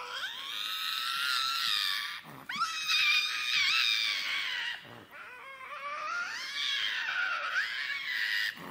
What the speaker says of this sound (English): Here you can hear the faint screams of a vtuber tweeting into the void.